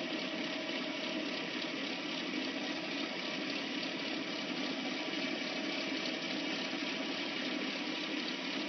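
Bass pickup winding machine spinning up to speed, a steady, even whir and hum holding constant throughout, moderately quiet and close with no talk.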